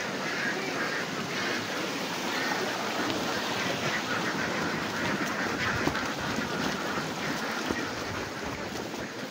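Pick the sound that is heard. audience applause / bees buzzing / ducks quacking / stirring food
ducks quacking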